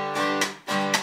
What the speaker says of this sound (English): you have a two bar G that sounds like this.